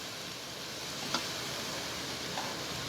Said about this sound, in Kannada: ಈ ಥರ ಬ್ರೌನ್ ಕಲರ್ ಆಗೋವರೆಗೂ ಈರುಳ್ಳಿ ಫ್ರೈ ಮಾಡಬೇಕು